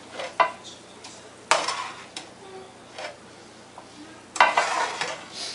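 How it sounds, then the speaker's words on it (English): Ground beef tipped from a draining pan into a greased baking dish for shepherd's pie, with a few soft thuds and scrapes and a brief light sizzle between quiet gaps. "I'm going to drain the grease out of my hamburger and put it in my pan here."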